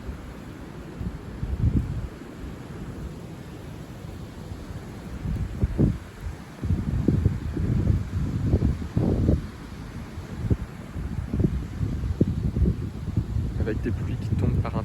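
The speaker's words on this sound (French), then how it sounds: "Que là ça souffle plus que tout à l'heure." Storm Eowyn winds in January 2025 gust harder, producing a rumbling roar with repeated low buffeting bursts against the microphone over about fifteen seconds, with someone speaking at moments.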